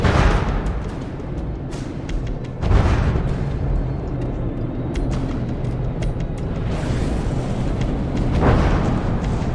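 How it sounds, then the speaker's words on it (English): Torpedo volley explosions against a dreadnaught in a video game: a few heavy booming blasts over a constant low rumble, with loud bursts near the start, around three seconds and again near the end. "Just one more torpedo volley is probably going to do it."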